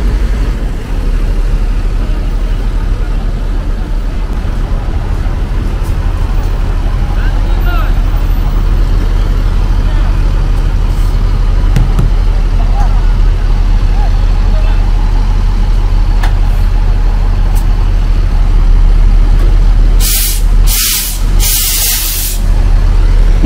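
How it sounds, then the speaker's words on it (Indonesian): A Haryanto bus with a Tentrem Avante H7 body pulls into a bus terminal, its steady loud engine rumble droning throughout, ending in sharp bursts of air-brake hiss. "Haryanto 189 ya, yang bodi Avante baru ini, Avante H7. Masuk terminal Polis Pelawat."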